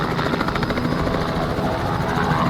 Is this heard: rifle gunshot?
no